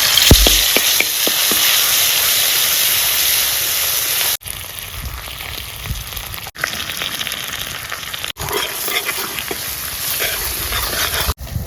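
Baata fish sizzles and fries steadily in hot oil with spices in a home kitchen, a continuous loud crackling hiss with a few brief breaks and soft stirring sounds.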